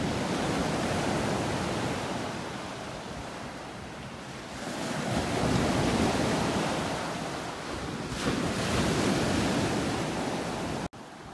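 Ocean surf rolls and washes against an old tree stump on a North Naples, Florida beach, a steady broadband roar that swells and recedes, with gusts of wind buffeting the microphone.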